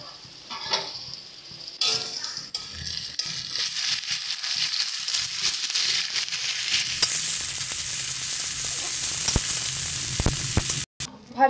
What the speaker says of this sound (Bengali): আদা বাটা, আর দিয়ে দেবো রসুন বাটা। সমস্ত কিছু দিয়ে ভালো করে এটাকে আমরা একবার কষিয়ে নেব।